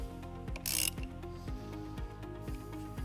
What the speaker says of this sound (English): We're going to remove this nut using a 10mm socket.